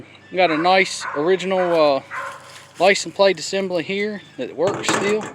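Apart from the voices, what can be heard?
dog barking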